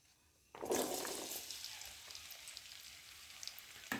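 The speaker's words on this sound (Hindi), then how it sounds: "पैन में डाला है घी। घी को होने देंगे गरम और डाल देंगे 2 बड़े साइज के प्याज।" Onions dropped into hot ghee in a pan set off a sudden burst of loud sizzling frying that settles into a steady crackling hiss, with small pops scattered throughout.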